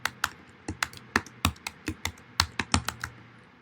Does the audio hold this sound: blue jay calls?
no